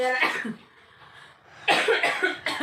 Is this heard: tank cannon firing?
no